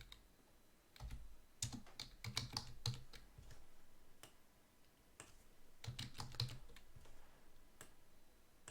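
Typing on a computer keyboard, with soft, close key clicks arriving in irregular bursts and brief pauses between them, quiet and heard without any talking.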